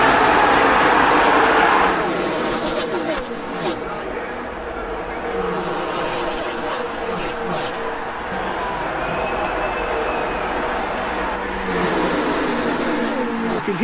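Stock cars roaring at the green-flag start of a Daytona 500 race, a loud dense engine drone from the pack of cars passing close, with a commentator talking over it throughout.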